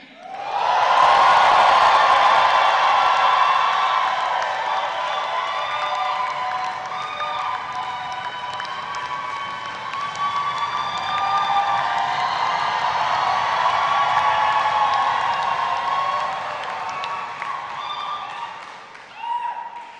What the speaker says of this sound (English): First cheer for the class of 2024.